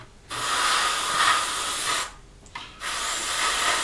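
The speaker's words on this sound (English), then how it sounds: "if you give the fan blades a bit of a spray, obviously we'll paint them silver afterwards" An airbrush sprays primer onto the fan blades and air intake of a 1/48 Academy SU-27UB Flanker model kit, giving a steady close hiss in two long bursts separated by a brief gap, with no talking.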